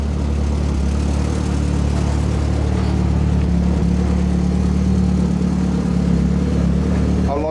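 Built Mitsubishi Evo X with a PT 6466 turbo and SST gearbox runs steadily just after leaving the garage, a loud, continuous low engine and exhaust drone with a faint rise near the end and no speech.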